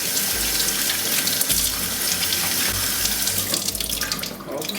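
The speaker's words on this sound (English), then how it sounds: "Rub it with a soft cloth under running water." Tap water runs steadily over a purple sweet potato being rubbed clean with a soft cloth at a sink, a close, continuous splashing rush with brief dips where the tuber interrupts the stream.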